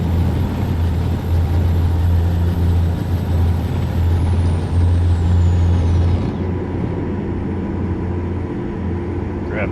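A heavy truck in American Truck Simulator grinds down under its Jake brake, a loud, steady low engine rumble with a droning tone that eases and drops away partway through.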